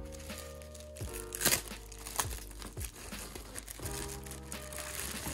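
Crinkling and tearing of a taped Amazon shipping package wrapped around a boxed GeminiJets Delta 767-300ER model plane, with several sharp rips and rustles, close and fairly loud.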